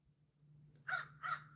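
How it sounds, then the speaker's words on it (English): A crow gives two distinct caws in quick succession, fairly faint and distant, over a quiet low hum. "There goes a crow flying. A couple crows, two of them."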